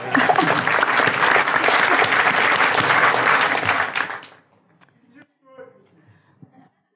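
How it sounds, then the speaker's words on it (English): A group claps loudly and steadily for about four seconds, then the applause cuts off, leaving a few faint voices. "this is like a group clap for all the sharers"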